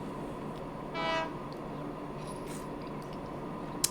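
Freight train in the Transport Fever 2 game sounding one short horn blast at moderate distance over a quiet rail ambience, with a faint click near the end.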